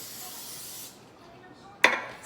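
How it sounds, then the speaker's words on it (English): Extra virgin olive oil spray hisses onto a muffin tin, first in a sustained airy spray, then a brief sharp burst close by; faint background between. "I'm gonna spray my muffin tin just with, I have extra virgin olive oil spray"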